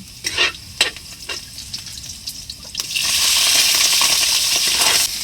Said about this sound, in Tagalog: Gisa lang natin.